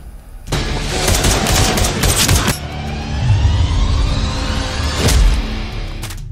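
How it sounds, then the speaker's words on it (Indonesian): Rapid bursts of gunfire in a film shootout, with a loud volley of shots at the start, a rumbling lull, then another sharp burst near the end. "Untungnya Garan menemukan sebuah senjata dan di saat itulah baku tembak antara keduanya terjadi."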